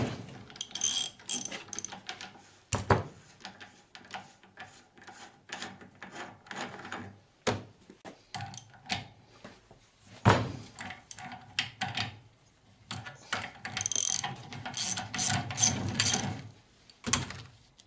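Front-end car suspension ball joint parts being taken apart, with repeated metallic clicks, ratcheting and clanking of tools against greasy steel components in irregular close bursts, briefly pausing between actions and with no talking.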